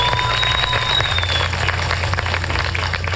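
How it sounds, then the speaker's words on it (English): Applause for city staff at a Santa Ana council meeting, a steady wash of many hands clapping from a crowd, continuous and fairly loud, with a thin whistle-like tone fading out early on. "let's give a big round of applause to all our city staff who made this happen very quickly"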